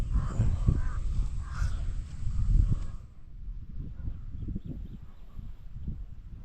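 A crow caws a few times out in the open during field work at a kaingin, harsh calls sounding over low rustling and handling noise, with the clatter fading after a few seconds.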